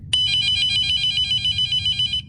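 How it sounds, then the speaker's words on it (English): A landline house phone rings in a quiet home at night, one continuous electronic trill with a bright warbling tone lasting about two seconds, close and clear with no talk over it. "suddenly, I heard the phone ring"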